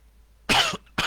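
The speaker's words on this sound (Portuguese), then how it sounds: "Hoje aí estou com bastante tosse" Two harsh coughs from a man with rhinitis, the first longer and rasping, the second sharp and cut short, close to the microphone in a quiet room.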